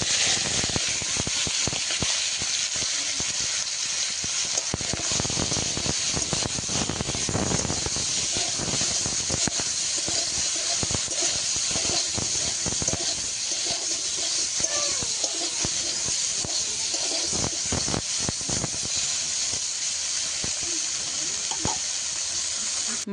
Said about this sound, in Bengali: তো এবার চিংড়ি মাছটা তেলে দিয়ে ভেজে নেব।